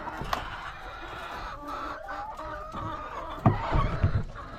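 Pet chickens cluck softly and steadily nearby in a backyard coop, with a few louder, sharper clucks and bumps toward the end and no talking.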